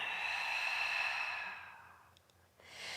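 A long, steady exhaled breath during a yoga stretching flow, soft and close, tapering away, then a faint new breath beginning at the end.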